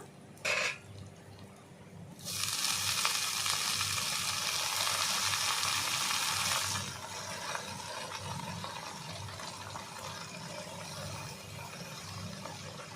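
Water spinach (kolmi greens) hitting hot oil after a brief clatter, bursting into a loud, bright sizzle that holds for several seconds and then eases to a quieter, continuing fry.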